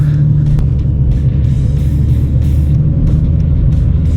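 A drift car's engine drones at a steady, low rumbling pitch as it circles to warm its tires, close and loud, with faint tire noise and no talking.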